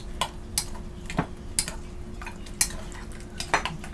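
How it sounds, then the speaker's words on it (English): Egg foo young egg mixture with cheese being stirred in a bowl, a utensil clicking and scraping against the sides in irregular light taps, close and fairly quiet with a faint steady hum underneath. "I just want to mix this up"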